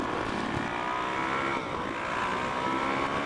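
Suzuki DRZ400 SM motorcycle engine revving steadily while riding on a road, a continuous loud drone with a rising and falling pitch and no pauses.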